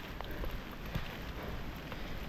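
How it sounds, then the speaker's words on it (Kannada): Rain falling during a mountain trek at Kudremukh, a soft continuous patter with scattered drops, faint and steady with no voices. "ಮಳೆ ಬರ್ತಿದೆ ಅಂದರೂ ಚೆನ್ನಾಗಿದೆ"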